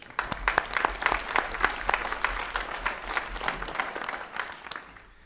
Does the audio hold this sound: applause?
yes